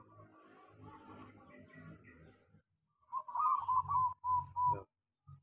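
Local zebra dove (perkutut) cooing from a cage hung among cool shady trees: after a stretch of murmured background talk, a series of loud, close, rhythmic coos arrives in four or five phrases, then stops.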